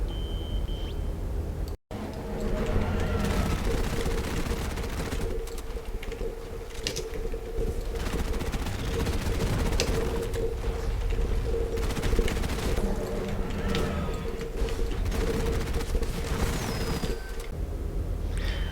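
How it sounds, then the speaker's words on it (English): Rapid gunfire from Zuks pistols loaded with conductive bullets in Deep Rock Galactic, dense bursts of shots over steady game noise and beeps, loud and continuous throughout. "As always, the Zuks with conductive bullets performed really well."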